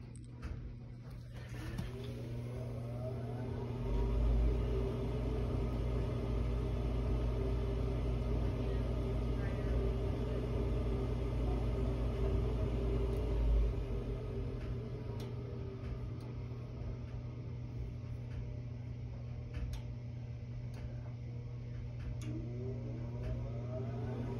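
Goodman furnace running with a loss of power, a steady low mechanical hum and drone with a constant tonal whine, holding at an even level throughout with a slight swell midway.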